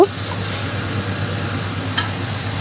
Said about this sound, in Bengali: এরপরে 2-3 মিনিট মাছটা ভালো করে আমি কষিয়ে নিব।